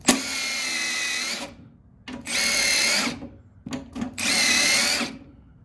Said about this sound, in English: What size bit are you using? I got a 3/16. So I got this countersinking bit.